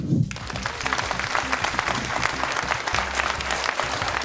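An audience applauds the participants of a public speaking contest semi-final, with dense, even clapping sustained throughout and a brief voice at the very start.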